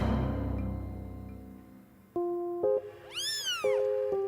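Newborn kittens in a small litter of two give several high, wavering meows near the close, after a stretch of low rumbling background; the cries come in short repeated bursts, fairly loud and alone without talk.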